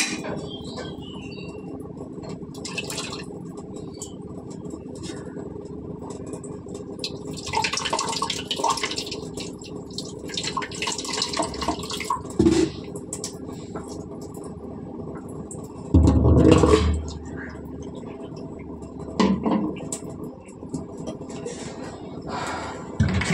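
Water runs steadily from a tap while something is rinsed off, a soft continuous flow with a few louder splashes and clinks now and then, no talking.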